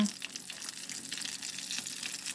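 Appalachian fried apple pies sizzle steadily in a pan of hot oil, a close, continuous crackle and spatter holding an even level throughout with no talk.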